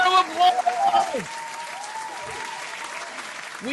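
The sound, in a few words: applause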